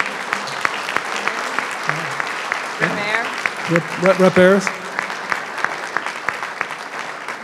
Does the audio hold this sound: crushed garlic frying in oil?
no